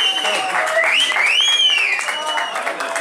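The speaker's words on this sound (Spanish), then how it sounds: "Un fuerte aplauso." Applause from the crowd at a Santiago Wanderers jersey presentation for the club's general manager, steady clapping under a tonal whistle-like sound, loud throughout.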